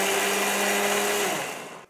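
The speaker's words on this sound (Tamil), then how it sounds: "இது எல்லாத்தையும் சேர்த்து நம்ம நல்லா மிக்ஸியில் அடிச்சுடலாம்." A kitchen mixer grinder whirs loudly and steadily while grinding batter for laapa, then its motor winds down and cuts off near the end.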